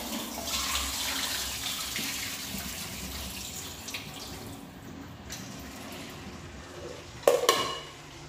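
Water runs and splashes in a kitchen sink as soaked fried chicken feet are drained, a steady tap-like flow with a brief clatter of a bowl or pan near the end; no talking.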